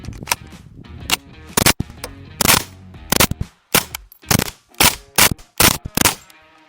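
A suppressed Kriss Vector with a three-position FRT trigger runs a full large magazine, firing in quick bursts of sharp, loud, muffled shots with short pauses between strings, close to the listener.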